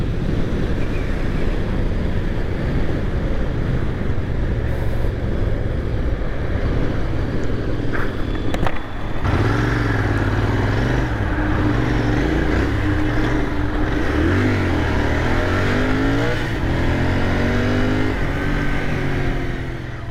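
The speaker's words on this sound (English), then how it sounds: "Both the bikes start and they make the same sound, same engine" A Royal Enfield Interceptor 650 twin-cylinder motorcycle engine drones steadily while riding, with rising and falling revs as it accelerates, loud and close with wind rush.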